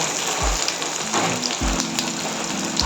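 Onions frying in a pan give a steady crackling sizzle with a rain-like hiss, broken by a few low thumps from the pan or stirring.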